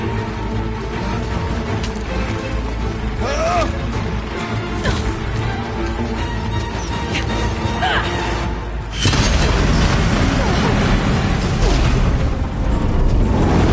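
Explosive ammo blasts in Horizon Zero Dawn: The Frozen Wilds, a dense, continuous barrage of booms and crashing impacts with mechanical clatter, loud throughout and growing heavier and fuller partway through.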